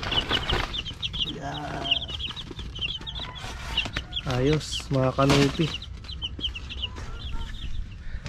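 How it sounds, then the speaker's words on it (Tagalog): Rhode Island Red chickens cluck repeatedly in the background, a busy ongoing chatter, while someone speaks briefly over them. "Talagang maliliksi na yung aking mga manok"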